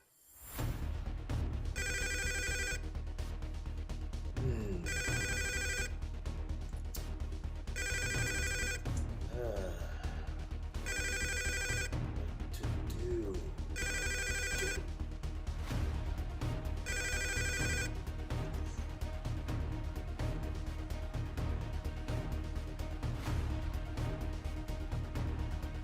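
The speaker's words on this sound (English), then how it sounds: "What's this? A phone call" A telephone rings repeatedly in regular bursts over a dense, loud musical background, the rings carrying on for several cycles before stopping while the music continues.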